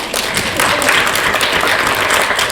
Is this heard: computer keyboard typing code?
no